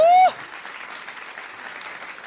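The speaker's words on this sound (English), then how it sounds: "A big round of applause." Audience applause at a food systems innovation award ceremony, a brief cheer-like tone at the start giving way to moderate, steady clapping.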